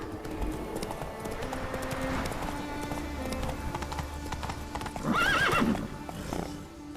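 A horse in The Witcher 3 video game trots with steady clip-clop hoofbeats, then lets out a loud, wavering whinny near the end, over quiet game ambience.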